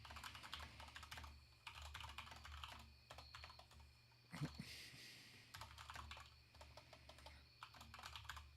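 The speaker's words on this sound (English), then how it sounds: "Sorry, I was typing." Quiet, fast typing on a computer keyboard while coding, bursts of soft key clatter broken by a brief pause and a sharper tap midway, recorded close and faint.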